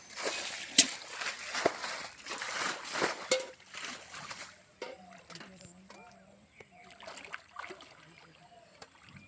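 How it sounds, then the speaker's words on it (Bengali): Water bailed out of a village canal with trays splashes and sloshes in rhythmic scoops, loud and close for the first few seconds, then gives way to fainter, scattered drips and outdoor sounds. "দেখুন কত সুন্দর ওরা সেচের থালায় করে জলটিকে সেচে মেরে দিচ্ছে"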